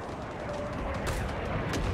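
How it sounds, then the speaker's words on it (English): Gunfire in the Vietnam War shooter game Rising Storm 2: Vietnam crackles in a few short, fairly distant shots over a busy background, with no talk during the bursts. "Hearing some gunfire."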